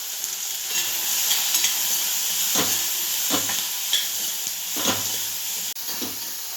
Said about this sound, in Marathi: आपल्याला भाजी चांगली डाग तर भाजायची आहे